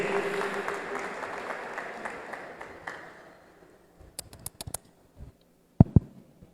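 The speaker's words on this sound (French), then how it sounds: "On applaudit pour ce bombardier." Audience applause at a secondary school sports match, a burst of clapping that fades out after a few seconds, followed by scattered sharp thumps and knocks.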